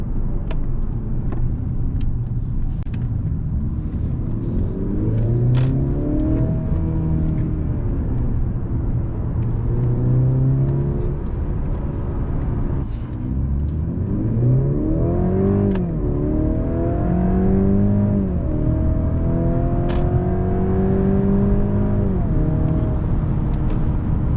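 A 2022 Mercedes C300 engine revs up repeatedly, rising in pitch as it accelerates through several gear shifts, heard from inside with steady road noise underneath.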